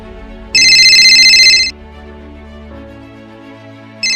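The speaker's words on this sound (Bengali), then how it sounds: "ফোনটা বেজে উঠল।" A phone's ringtone chimes in one loud burst of about a second over a low background hum, then briefly starts again at the very end.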